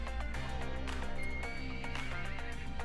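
An Equus horse in Ark Survival Evolved lets out a clear, drawn-out neigh with hoof clip-clops mixed in, set over a steady background of game music and ambience.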